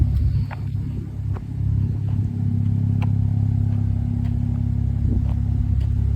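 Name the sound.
2015 Porsche 911 Turbo S engine idling with Speedtech exhaust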